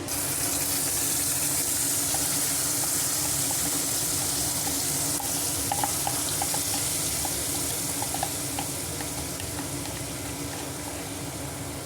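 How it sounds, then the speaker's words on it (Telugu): Spice paste for a paneer curry fries in a pan with onion, cashew, cinnamon, cloves, green chilli and coriander powder. It gives a steady, dense sizzle with a few faint clinks, and no one speaks. "ఇప్పుడు మనం పేస్ట్ చేసుకున్నాం కదండి, అది కూడా ఇందులో వేసి ఫ్రై చేసుకుందాం పచ్చి వాసన పోయే వరకు"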